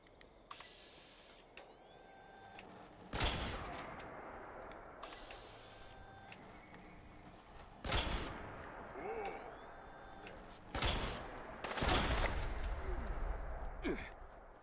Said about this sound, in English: Right, I haven't used a Gauss rifle in ages.